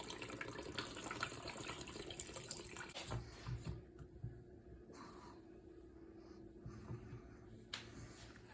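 Coconut water pours into a blender for a green smoothie of kiwi, lime, matcha, ginger and agave, a steady close liquid splash running for about three seconds before fading into quieter trickles and small kitchen clatter.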